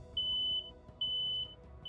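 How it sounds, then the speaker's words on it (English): A smoke alarm sounds with two loud, piercing high-pitched beeps about a second apart, each held for roughly half a second, over a quiet low background hum. "When there's smoke, smoke alarm makes a really loud noise."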